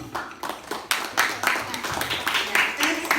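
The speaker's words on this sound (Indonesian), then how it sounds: "Oke, tepuk tangan dulu." A classroom of students claps together at a teacher's prompt, a steady run of sharp, fairly close hand claps lasting a few seconds with no talk over it.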